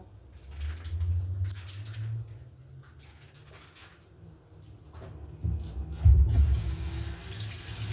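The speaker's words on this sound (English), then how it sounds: "Wash my hands." Tap water runs into a kitchen sink during hand washing while ground turkey dog food is being made, a steady hiss that grows louder and splashier near the end, with no talking.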